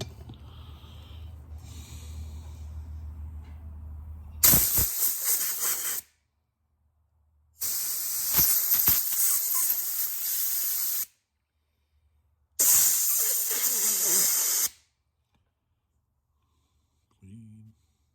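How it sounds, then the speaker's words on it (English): A can of WD-40 sprays lubricant into a CF Moto Moose Tracker that has sat for three years, in three loud hissing bursts of roughly one to three seconds with silent gaps, after a stretch of low background rumble. "Let's make sure we can get some WD-40 in there."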